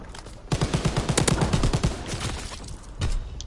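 An SMG machine gun fires in rapid bursts during a video game match, a dense rattling run of shots followed by a pause and a short final burst, loud and close with no talk over it.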